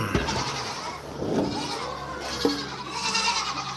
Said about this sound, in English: Yeah, I can hear the sheep. Yep, the sheep are right over there.